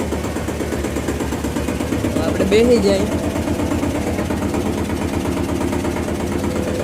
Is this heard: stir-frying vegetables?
no